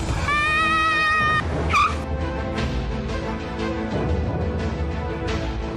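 Cars and motor traffic pass steadily along a busy road, a continuous near engine rumble with a brief high squeal-like tone early on and swells as vehicles go by, no one speaking.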